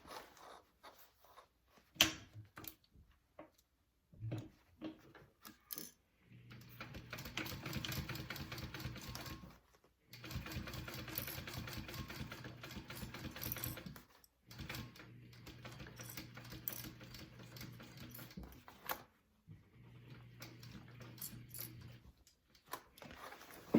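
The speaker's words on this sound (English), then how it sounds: "we're gonna sew around that at a 1/4 inch seam allowance and finish up this front pocket" A sewing machine stitches around a bag's front pocket at a quarter-inch seam allowance, running in several steady whirring bursts of a few seconds each, separated by short pauses and quiet handling noises.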